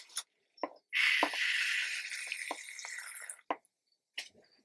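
Water is poured into the corners of a tarantula enclosure onto soil, giving a close hissing splash of about two and a half seconds, bracketed by scattered wet drips and soft squishy taps.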